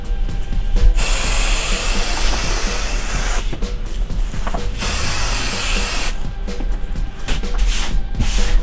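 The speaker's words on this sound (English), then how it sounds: "we're going to spray a nice healthy spray on the ends here" Bursts of hissing aerosol spray onto fabric, loud and close, with a long steady spray followed by a shorter one after a pause.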